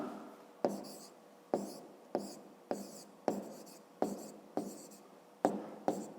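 Chalk or pen taps and scratches out a fifth-grade math equation solution, with about ten distinct strokes at a brisk, even pace, close and fairly quiet.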